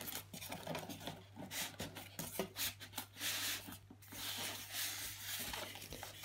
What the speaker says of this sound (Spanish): A continuación viene la máquina, que como ustedes verán cuesta un poco sacarla